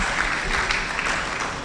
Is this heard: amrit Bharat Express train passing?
no